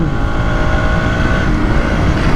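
A Husqvarna Svartpilen 200 motorcycle engine pulls uphill under load, a loud, steady droning roar mixed with wind rush, sustained without a break.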